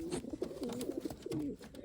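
Mojagar pigeons coo close by in a series of soft, throaty, rolling calls, rising and falling with short pauses, over a faint background hum.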